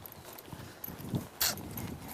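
During groundwork training, a horse walks nearby with soft, uneven hoof thuds on the ground, followed by a sharp scuff or snort. It is fairly faint, with no talking.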